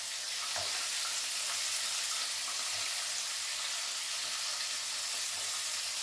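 Battered green beans frying in olive oil, giving a constant close bright sizzle with occasional soft pops and clinks as pieces go into the pan.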